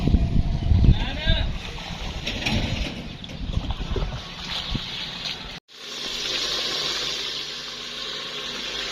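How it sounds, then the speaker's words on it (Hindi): Water is poured into a pot of browned onion, tomato and spice masala, giving a steady gushing, hissing wash that carries on for several seconds before a brief cut and a softer hiss. "अब जो है ना हम पानी डाल रहे हैं इसके अंदर।"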